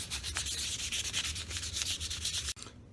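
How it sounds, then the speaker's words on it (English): Sandpaper rubbing back and forth over a plastic light lens, close and loud, in quick regular strokes for a few seconds before stopping abruptly with a brief knock. "the longer you sand, it'll start getting smooth to the touch"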